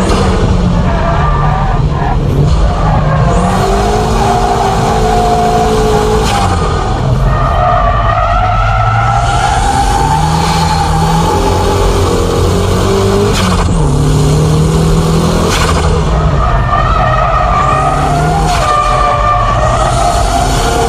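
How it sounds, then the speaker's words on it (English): A car drifting through S-curves roars continuously for about twenty seconds, its engine note rising and falling with each bend under a loud, steady wash of tyre and road noise. "On the S-curves, the faint drift should be used."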